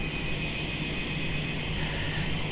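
The JQ17 airliner taxis for takeoff at Melbourne Airport with a steady, constant engine roar. A high whine sits above it, the sound staying even and moderately distant, with no talk.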